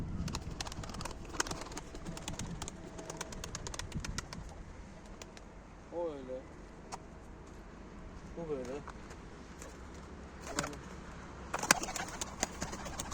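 Soft pigeon coos surface a couple of times amid faint background clatter and occasional voices nearby.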